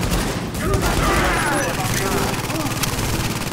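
Shotgun fire in the video game The Division, heard as a dense run of loud gunshots layered with other game combat and explosions, with a voice talking over the gunfire throughout.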